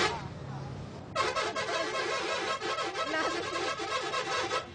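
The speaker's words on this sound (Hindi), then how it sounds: "हॉर्न की आवाज़ से आपको अंदाज़ा हो गया होगा" Several loud bus horn blasts honk over busy traffic noise after a brief lull, overlapping and repeating in a dense, insistent chorus.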